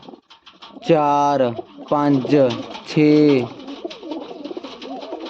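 Pet pigeons kept in pairs coo in several loud, close, throaty bursts, one after another, while a man counts aloud between and over them.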